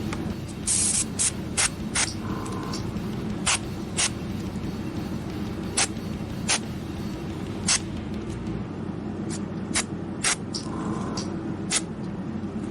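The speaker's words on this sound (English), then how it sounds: "I just feel like I want to use the airbrush here" An airbrush sprays paint onto a Marvel Zombies Zombicide miniature with a continuous soft hiss, broken by repeated sharp clicks and brief bursts at irregular intervals.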